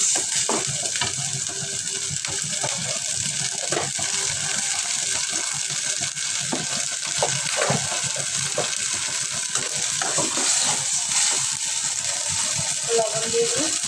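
Garlic and ginger paste goes into a hot pan for a Bangladeshi fish dish, giving a steady, close sizzle and frying hiss with scraping stir clicks throughout, a running tap faintly behind.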